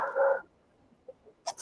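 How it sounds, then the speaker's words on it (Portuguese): Dogs barking: one loud close yelp, then a few faint, short distant barks in a quiet setting. "Tem cachorrada aí."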